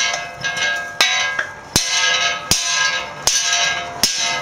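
A mini sledgehammer strikes the ball joint on a 1999 Mercedes ML320, with six sharp metallic hits ringing at uneven intervals and loud and close, each blow leaving a brief bell-like ring.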